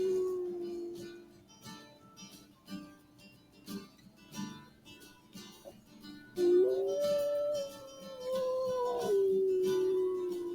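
A lone wolf gives a long, wavering howl that rises and then slowly falls, fairly faint over a quiet background with soft music.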